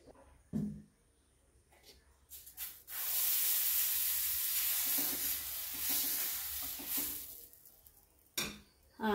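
Dosa batter cooking on a hot oiled tawa, a steady broadband sizzle lasting several seconds between brief clattering handling sounds, close and moderately loud.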